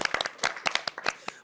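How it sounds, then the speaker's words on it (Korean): Small church Bible-class audience clapping briefly in an indoor room, a short, close patter of a few people's hand claps lasting just over a second. "격려를 위해서 우리 박수를 한번"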